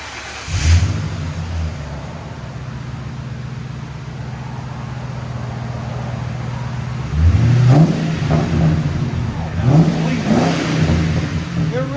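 A 1962 Ford F-100 built on a 2011 Crown Vic frame idles loudly up close, then its engine is revved in two sharp bursts that each climb and fall back to a rumbling idle.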